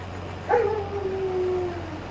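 A shepherd dog in a Farming Simulator 22 farm game gives a single rising howl that settles into a long, steady whine, moderately loud over a low constant background hum, with no talking.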